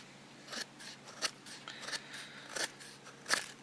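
A Gerber Order knife with a plain, hollow-ground edge carving wood, giving a series of sharp, dry scraping cuts, about six distinct strokes spaced irregularly, close and fairly quiet with no talk.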